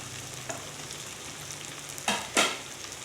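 Potatoes fry with chicken in a pan, a quiet steady sizzle broken by two sharp bursts of louder crackling near the end as pieces are stirred.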